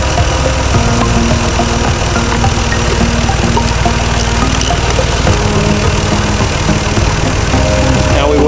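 A car engine idles loudly and steadily right after being started on a new battery, with a constant close rumble and slight knocking vibration running throughout, no voices over it.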